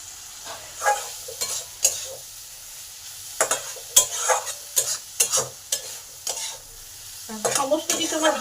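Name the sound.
stir-frying spice paste in oil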